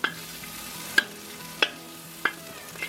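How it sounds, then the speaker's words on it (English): Ginger and garlic stir-frying in a pan for a Cantonese pork belly dish: a soft continuous sizzle punctuated by four evenly spaced metallic spatula clinks, close by. "We've got some ginger and garlic that we're going to cook up, stir-fry."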